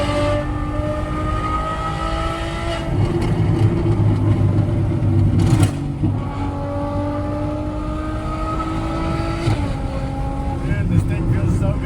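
Straight-piped Ferrari 812 V12 cruising, heard from inside as a loud, continuous drone that rises through the gears in several climbing pulls, with brief shift breaks between them.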